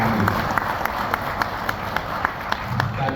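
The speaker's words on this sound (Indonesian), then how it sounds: "Tepuk tangan untuk kami." An audience at a PDI Perjuangan party event claps in a dense, even patter with scattered louder claps, close and continuous, with a little crowd murmur underneath.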